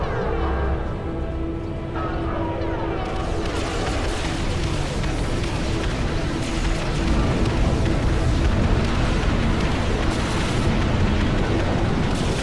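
Strategic bombers' payloads explode in Ashes of the Singularity, a dense, continuous rumble of heavy blasts that swells louder in the second half with no pause between impacts.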